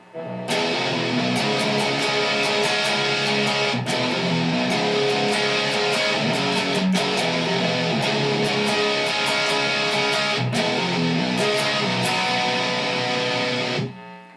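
A distorted electric guitar plays the main riff alone, sustained heavy chords with brief pauses between phrases, loud and close throughout.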